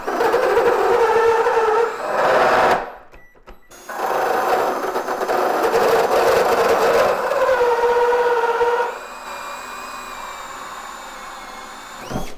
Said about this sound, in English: That cut right through those 15 gauge nails with no problem.